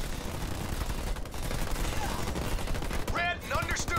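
Units in Halo Wars 2 trade steady automatic gunfire in a continuous rattling fusillade. Near the end a short burst of game voice chatter rises over the shooting.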